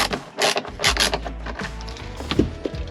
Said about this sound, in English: Just gotta turn my screwdriver the other way.